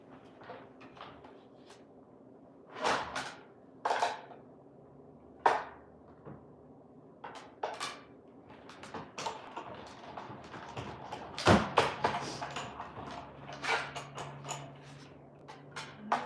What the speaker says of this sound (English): let me go run this through my die cutting machine